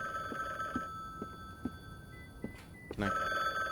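An old-style telephone ringing in the game The Bookwalker: Thief of Tales, a steady bell tone with soft footsteps and a short bump before the ringing swells louder at the end.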